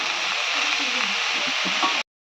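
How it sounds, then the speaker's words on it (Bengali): Cabbage, rinsed with a little water, frying in a pan with potatoes: a steady, loud hiss of sizzling that runs evenly, then cuts off abruptly. "আর এবার ভাজবো।"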